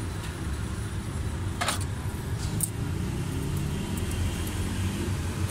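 Suzuki Bolan engine idling with loose tappets, a steady low mechanical drone with light rhythmic clatter and a couple of brief sharper ticks, heard close and alone.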